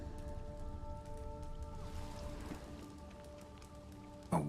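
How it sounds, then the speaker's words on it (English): A waterfall flowing upwards in The Witcher 3: Blood and Wine gives a steady rain-like rush of water under sustained tonal music, with a sharp sudden burst at the very end. "A waterfall flowing upwards?"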